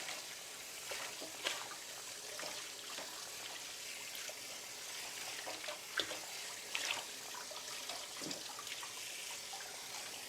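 Water running from a tap over a cast iron pan being washed in a sink, a steady splashing stream with occasional clinks and knocks, moderately quiet and without talk.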